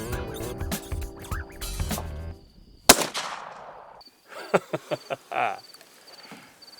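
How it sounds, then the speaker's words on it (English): A single sharp rifle crack rings out during a night lynx hunt on safari, its echo fading quickly, amid a quiet background of night insects and faint rustling. "Being my first time hunting the lynx, I hoped my shooting would be up to par."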